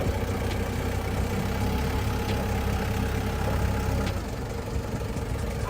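Forklift engine runs with a steady low rumble and drone while driving slowly on a straight line, constant and close, with no speech over it.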